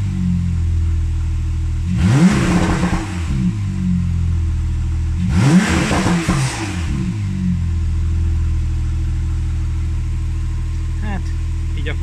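A Porsche 911 engine idles with a deep, steady rumble and is revved twice in short bursts that rise and fall, close by and fairly loud.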